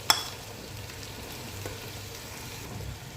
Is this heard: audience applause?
no